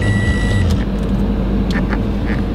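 A 2014 Toyota RAV4 engine starts up and settles into a steady idle, with a loud low rumble running throughout and a few brief higher clicks over it.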